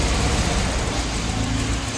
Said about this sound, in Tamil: இப்போ வந்து ஐட்லிங் வந்து கம்மியாக இருக்குது.